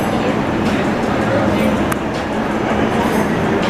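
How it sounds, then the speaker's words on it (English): A Las Vegas monorail train rolls along in a continuous loud, rumbling drone heard from on board, steady for several seconds with a faint clatter running through it. "The Las Vegas monorail."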